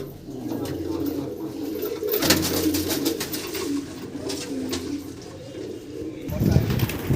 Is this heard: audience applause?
no